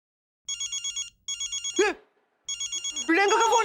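A telephone rings in repeated electronic bursts in a Hindi sitcom household scene, two ringing spells split by a short pause, with voices speaking between and over the rings.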